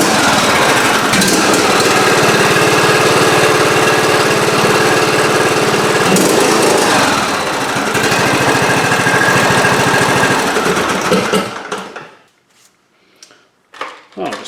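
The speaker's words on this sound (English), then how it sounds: "You just want to start it up and we'll just run it for a little bit so the oil can circulate through the system" A riding lawn mower engine roars loud and close, running at a steady rough drone for about eleven seconds before it is shut off and dies away into near silence, leaving a few faint knocks.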